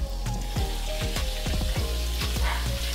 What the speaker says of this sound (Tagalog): At eto na ang prito